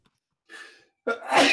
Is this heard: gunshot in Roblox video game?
no